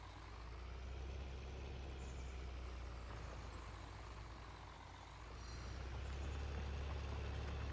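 Tractor ploughing up a grass field in Farming Simulator 19, a steady low engine drone that holds throughout and swells slightly near the end.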